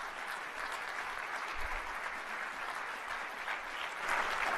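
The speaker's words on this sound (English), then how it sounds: "And you can applaud, that's fine." Quiet but steady applause from a seated audience at a panel event holds evenly for several seconds with no voices over it.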